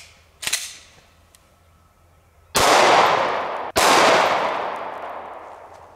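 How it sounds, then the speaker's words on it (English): Two loud 9mm handgun shots fired at a cinder block outdoors, a little over a second apart, each a sharp crack with a long decaying ring, preceded by a fainter pop. "First, let's take a shot at it with the 9mm."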